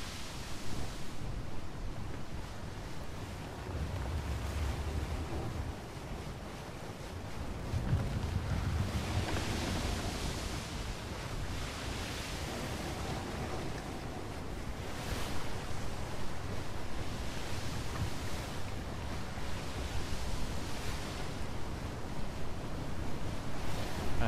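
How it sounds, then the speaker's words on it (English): Ocean waves and wind rush steadily around a sailing ship in the video game ATLAS, a continuous broad wash of surf with gentle swells and no voices. "we'll continue sailing here, see if we can run into anything or anyone."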